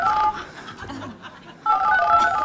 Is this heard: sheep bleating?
no